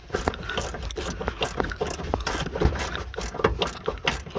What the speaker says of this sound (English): Alright, so we'll get this socket back there and we'll break it loose.